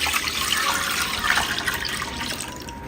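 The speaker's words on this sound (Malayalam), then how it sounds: "തേങ്ങാപ്പാലിൻ്റെ മിക്സ് ഇതിലേക്ക് അങ്ങ് ഒഴിക്കാം" A coconut milk mixture pouring steadily into a pan with a continuous splashing hiss, close and moderately loud.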